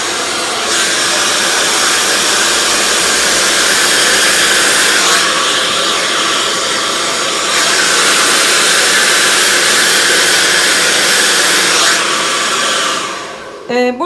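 Hair dryer blowing steadily while hair is brush-dried straight, a loud continuous rushing whir held for most of the time, with brief dips as it is moved and a faint handling clatter at the end.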